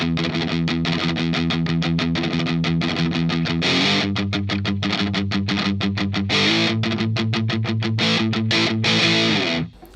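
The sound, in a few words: guitar through BOSS DS-1 distortion pedal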